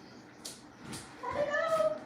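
Pet cats give soft, faint meows and small chirping calls in a quiet room, a short murmuring phrase toward the end, with light rustling in the background.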